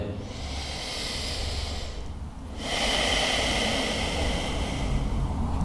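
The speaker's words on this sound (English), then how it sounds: "take a nice deep breath in. And then exhale." A person's slow, deep breath in, then a longer exhale, during a yoga session for back pain relief; soft, close airy breathing sounds with a brief pause between inhale and exhale.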